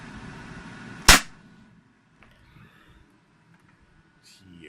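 A modded Nerf Elite Zombiestrike Quadrot toy blaster fires a single sharp, loud pop close by. Faint clicks and shuffling follow.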